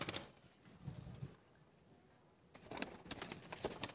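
A male Bengal pigeon with a white beak coos softly in a loft, faint and close, with light fluttering and bird sounds around it.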